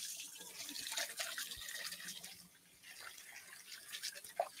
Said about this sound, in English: I'm filling a bowl of water and I'm using a little bit of fabric softener.